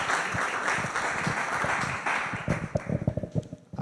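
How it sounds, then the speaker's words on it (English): Audience applause at a European raw materials clustering event, a steady wash of many hands clapping that thins into scattered individual claps near the end. "So a big applause to Martin."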